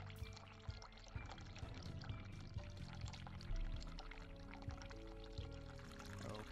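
A tap runs steadily in the video game The Cat Lady, a continuous pouring and splashing of water into a basin, even and close, with small knocks over the flow.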